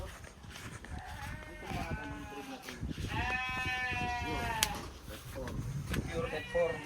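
Sheep bleat repeatedly on a goat farm, several wavering cries up close, mixed with background farm noise and people talking.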